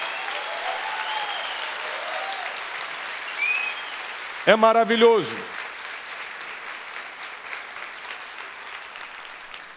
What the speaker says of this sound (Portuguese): Aplauda o mais forte que você puder.